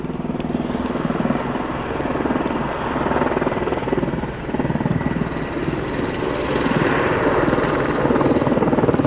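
A loud AW101 Merlin helicopter hovers nearby during an air show flying display, its rotor and engine roar holding steady throughout with no voices.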